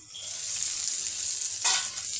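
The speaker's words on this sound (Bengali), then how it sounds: "পটলটা ভাজা হতে থাকুক" Pointed gourd (potol) fries in a pan with a steady bright sizzle, briefly swelling louder near the end.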